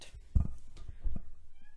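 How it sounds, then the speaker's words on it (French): A house cat meows at a door somewhere behind the listener, a few soft, somewhat distant cries amid light room noise and bumps. "j'ai mon chat qui miaule derrière moi. Qui miaule à la porte en fait."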